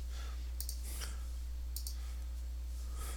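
Several sharp computer mouse clicks come in small pairs and singles against a steady low electrical hum, close and crisp, with no voices.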